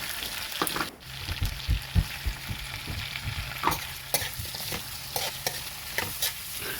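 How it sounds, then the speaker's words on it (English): Abacha with pomo being stirred in a frying pan, a steady close sizzle broken by repeated scraping and tapping of the spoon in an uneven rhythm, with no talking. "So I'll just stir this around."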